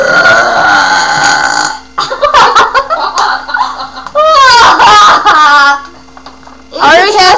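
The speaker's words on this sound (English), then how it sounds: "Come on, burp." Several loud, close burps from a group of friends, each long and throaty, separated by giggles and laughter.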